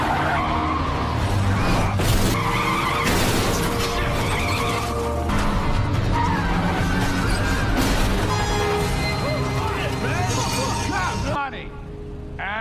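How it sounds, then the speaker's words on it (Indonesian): A car with a punctured tire skids and swerves toward a dead end, tires squealing loudly and continuously over a dense, busy mix of other sounds before cutting off near the end. "Tetapi para FBI sudah memasang jebakan yang membuat ban mobil Will harus bocor dan terpaksa membelokkan mobilnya ke tempat buntu"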